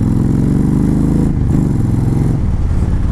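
A used Honda Fury VTX 1300 chopper motorcycle engine runs close by with a loud, steady, low throbbing rumble throughout, dipping briefly in the middle.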